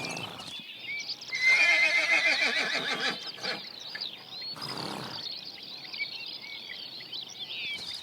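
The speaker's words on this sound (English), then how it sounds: "Today, the horses of the Danube Delta are some of the few wild species left in Europe." Wild horses of the Danube Delta floodplain forest whinny in a loud drawn-out neigh, followed by softer snorts and hoof clip-clops with birdsong chirping steadily behind.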